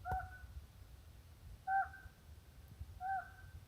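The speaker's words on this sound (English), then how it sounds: "Got a raven up there having a good old time." A raven calls from high up in a desert canyon, giving three evenly spaced double croaks about one and a half seconds apart, faint and distant over quiet, breezy ambience.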